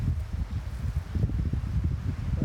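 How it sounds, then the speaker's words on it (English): A gust of wind sweeps through a giant-pumpkin patch on a breezy morning, a buffeting low rumble of wind against the microphone with some rustling leaves, rising and falling over a couple of seconds. "Oh, there's a good sized gust coming."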